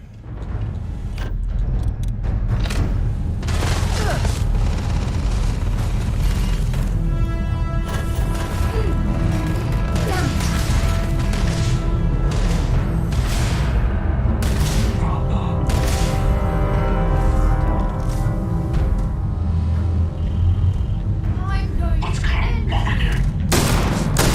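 Shotgun blasts in the video game Starfield, a loud, sustained barrage of booming shots and impacts layered over a constant low rumble of combat noise, continuing throughout.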